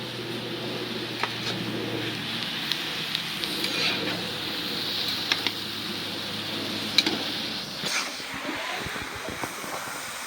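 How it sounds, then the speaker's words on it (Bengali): Kolai greens fry in a pan with a continuous sizzle and occasional stirring scrapes, while a low hum runs beneath and faint bird cooing sounds in the background. "হয়ে গেল কলই শাক ভাজা"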